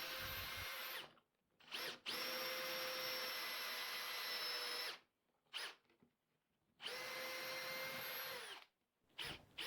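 A drill boring pocket holes in wood for an Xbox stand or table, loud close bursts of high-pitched whining in three long runs with short blips between, no talking.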